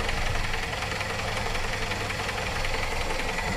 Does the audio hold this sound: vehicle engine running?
yes